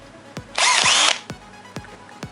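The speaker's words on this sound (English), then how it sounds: "I'm going to be using my cordless drill" A cordless drill fitted with a wire brush, used on car brake parts during a pad and rotor change, whirs loudly in one short burst of about half a second, with several sharp clicks around it.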